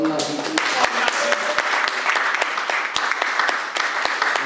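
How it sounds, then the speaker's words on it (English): A crowd applauds warmly, a dense patter of clapping with a few sharper claps standing out, lasting several seconds. "A big round of applause to little Natty"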